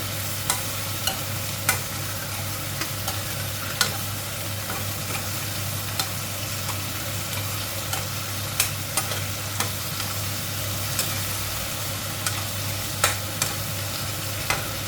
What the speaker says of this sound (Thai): ใส่ใบที่หลังค่ะ ผัดให้สุกๆ